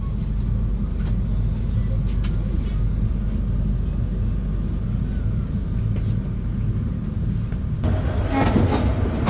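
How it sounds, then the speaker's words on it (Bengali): The Shimanta Express pulling into Khulna railway station, a steady low rumble of rolling wheels with faint clanks, ending in a brighter rattling burst as it nears. "ট্রেনটি প্রবেশ করছে তার শেষ যাত্রাবিরতি স্টেশন খুলনা রেলওয়ে স্টেশন"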